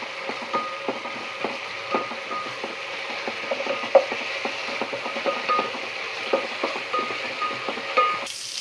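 Ginger paste frying in ghee in a pan for chicken curry. Rapid, regular scraping clicks from stirring sit over a faint, steady sizzle, close and fairly quiet.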